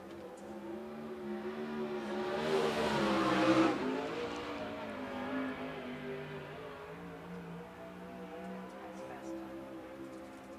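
USAC Southwest race cars on qualifying laps at Central Arizona Speedway, a loud engine snarl swelling as a car accelerates past, then a steady droning whine fading into the distance while an announcer talks over it.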